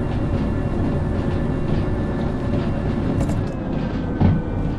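A locomotive in the train simulator Derail Valley rumbles along with a light consist, giving a continuous heavy rolling drone and faint rail clatter throughout.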